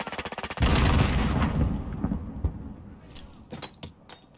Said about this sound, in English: Grenade down!